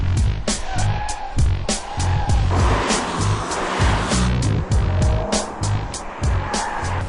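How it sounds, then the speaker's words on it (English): A V8 BMW M3 with 414 horsepower driving, its engine roaring loudly and continuously with rapid revving surges and gear changes, close and dominant throughout. "48 enthusiasts from the USA were among the first in the world to drive the V8 414 horsepower BMW M3"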